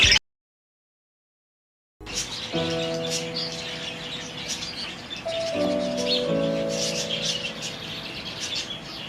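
Budgies chirp and tweet busily in a breeding bird room, with layered whistling calls and sharp chatter coming close and loud after a brief silence at the start.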